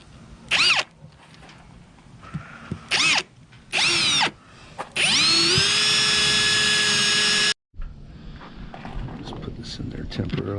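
A power drill bores into wooden planking on a Tahiti gaff cutter boat: short close whirring bursts, then a long steady high whine that stops abruptly, with faint movement noises after.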